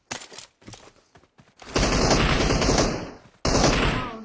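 Gunfire in the PUBG Mobile battle royale game: sporadic shots at first, then a dense, loud burst of rapid automatic fire that breaks off briefly and resumes.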